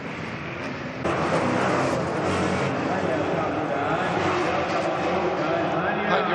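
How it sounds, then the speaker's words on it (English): Racing pickup trucks at the Race of Champions in Riyadh, engines roaring and surging loudly at close range and building in intensity, with commentary voices over the top. "John Ericsson taking the win onto the pickup trucks. Oh, listen to that, absolutely fantastic"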